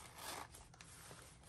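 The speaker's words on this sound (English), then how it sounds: "she zips up and fits in there really nice" A zipper rasps along the cover of a mini Hobonichi planner, a quiet, close scratchy run with small ticks and rubbing, no speech.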